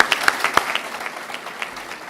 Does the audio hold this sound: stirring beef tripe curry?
no